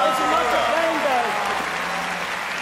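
A studio audience at a game show claps in a steady wash of applause, with a voice talking over it throughout.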